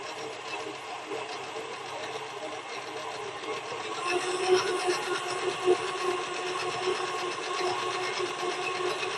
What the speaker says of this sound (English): See why I do this with my mixer?